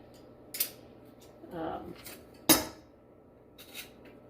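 A small garlic press squeezes cloves in a kitchen: a few separate sharp metallic clicks and a soft squishing crunch, close and isolated against quiet background.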